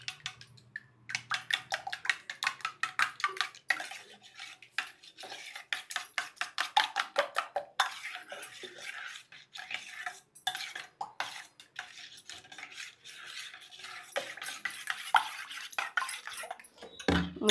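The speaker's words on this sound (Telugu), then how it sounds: "దీంట్లోకి కొంచెం గరం మసాలా, కొంచెం ధనియాల పొడి వేసి మళ్ళీ కలుపుకుందాం" Spoon stirring garam masala and coriander powder into a home-cooked dish in a pan, a long run of quick scraping clinks, steady and near, with no talk.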